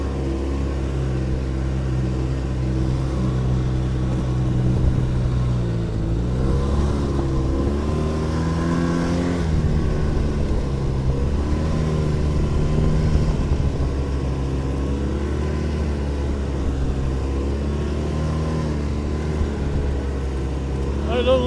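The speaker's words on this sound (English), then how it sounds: "I usually ride anyway with one knee on the snowmobile" A snowmobile breaks trail through about 12 inches of fresh snow in Alaska, its engine droning steadily up close, with the pitch rising and falling as the throttle changes.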